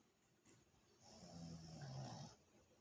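A sleeping dog snores softly nearby, one slow, drawn-out rasping breath that swells and fades over a couple of seconds against a quiet room.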